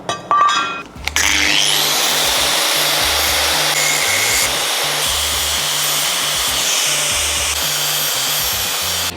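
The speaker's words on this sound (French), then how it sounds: "j'ai tronçonné les petites pattes ici pour que ce soit bien à fleur" A power tool spins up and cuts off small metal tabs on a winch mounting plate for a Toyota Land Cruiser KZJ/KDJ 90/95, after a brief clink; the loud, steady high whine continues alone for several seconds.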